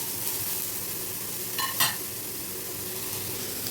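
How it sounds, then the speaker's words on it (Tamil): Onion and garlic sautéing in a pan give a steady close sizzle, with a brief clatter of stirring partway through and no talking. "வெங்காயம் பூண்டு சேர்த்துட்டு வதக்கலாம்"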